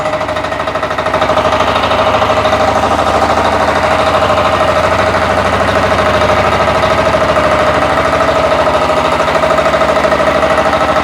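A walk-behind tractor engine runs steadily in first reduced gear as the machine creeps forward, a loud, close, constant mid-pitched drone with a fast rhythmic chug and no pauses.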